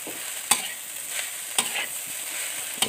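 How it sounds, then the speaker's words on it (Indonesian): Javanese-style nasi goreng mawut fried rice stir-fried in a pan, a continuous close sizzle broken by three sharp spatula scrapes and clanks. "Pagi ini aku lagi menggoreng nasi"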